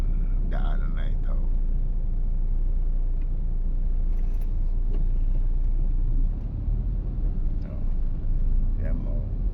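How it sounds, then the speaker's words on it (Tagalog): Heavy road traffic near FTI in Taguig, with a constant low rumble of idling and creeping cars and engines close by, while a person talks over it throughout. "napaka-traffic ang daanan na ito"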